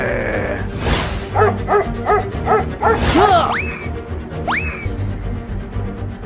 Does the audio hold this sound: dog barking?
yes